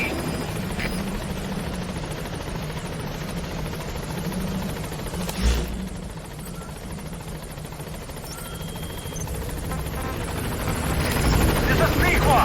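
The Pequod helicopter in Metal Gear Solid V: The Phantom Pain approaches a landing zone with a continuous rotor thrum and engine whine that swells louder toward the end, a brief thud midway, radio voices talking over it.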